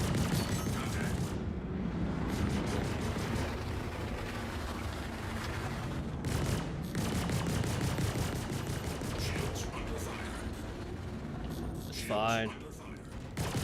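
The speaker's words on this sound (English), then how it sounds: "Not a big fan of the ballistic shooting at me though." Ballistic gunfire in the Star Citizen space game rattles through dense, sustained combat noise of rapid bursts and rumbling impacts, loud throughout with someone talking over it briefly.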